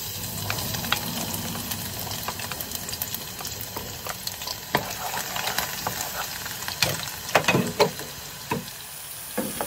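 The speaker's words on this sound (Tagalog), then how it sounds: "Magigisa na tayo. Unahin natin itong ating bawang." Garlic sautéing in a pan for pancit bihon, a steady close sizzle and crackle of frying with occasional stirring scrapes rising toward the end, no talk.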